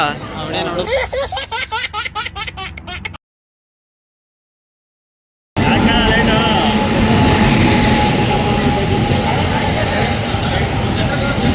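A loud, steady rumble of a moving train fills the second half, following a brief burst of voice and a moment of silence.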